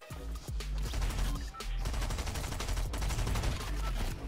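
Stinger SMG gunfire in a video game: rapid automatic bursts fire almost continuously at close range, loud and dense, with a brief pause near the start and no talking.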